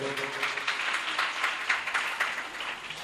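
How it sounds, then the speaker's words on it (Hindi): An audience at a devotional religious discourse in Delhi claps in welcome, a continuous dense patter of hands at moderate loudness with no talking. "तालियां बजा कर स्वागत कर दो।"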